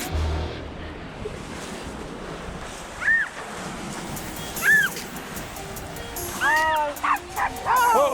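Dogs bark and yip on the beach at Durdle Door in Dorset. Several short, fairly close barks rise over steady surf, with the busiest run coming near the end.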